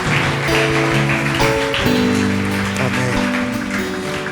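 A church congregation at a sermon applauds under loud sustained music, with a steady wash of clapping blended beneath the held chords.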